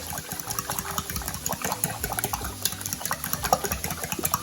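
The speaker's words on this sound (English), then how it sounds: "I'm just gonna whisk those eggs" Four eggs are whisked in a bowl for a spaghetti carbonara sauce, producing a fast, steady, rhythmic clatter and sloshing close up, moderately loud, with no talking.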